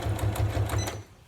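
A sewing machine stitching fabric for a storage caddy, a short close burst of fast regular needle thumps that slows and stops after about a second.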